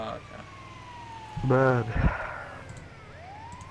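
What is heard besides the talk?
ambulance siren in video game GTA 5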